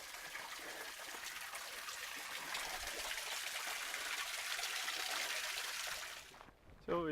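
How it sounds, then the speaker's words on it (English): Creek water trickles and rushes steadily beside a desert trail near Mission Camp Spring, a continuous broadband flow that holds even for about six seconds before breaking off abruptly near the end. "the trail follows a creek"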